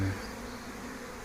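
Honeybees swarm out in large numbers at an apiary hive, making a dense, continuous buzzing drone that stays steady and moderately loud throughout, with no voices.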